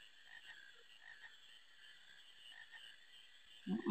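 Frogs croak from Final Fantasy IX game audio in a steady, faint layered chorus of repeated calls, with a louder burst of sound at the very end.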